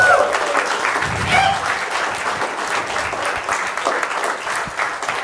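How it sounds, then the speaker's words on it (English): A hall full of people applauds steadily at a game development talk, a dense, even wash of clapping sustained throughout with a few brief whistles near the start. "another round of applause"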